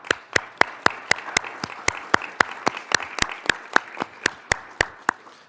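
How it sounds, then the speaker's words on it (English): Steady, evenly spaced claps ring out at a conference closing, crisp and fairly close, with a softer wash of scattered clapping beneath and no voices over it. "let me join in a round of applause to our speakers"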